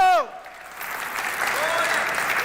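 At a Baptist church, a congregation claps after a brief sung or spoken vocal phrase at the start, the applause building into a steady, moderately loud patter of many hands for the remaining two seconds.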